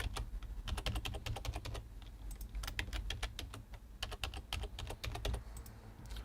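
Rapid bursts of keystrokes on a computer keyboard, close and clear, coming in clustered runs with brief pauses between them, no voices present.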